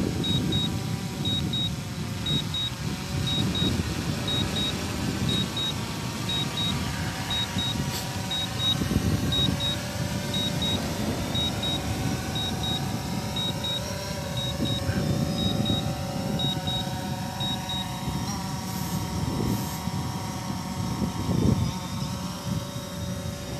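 A drone hovers and descends to land, a steady buzzing motor whine with a regular repeating beep through most of the stretch, close and continuous.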